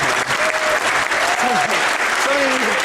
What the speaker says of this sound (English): round of applause for all the people who helped us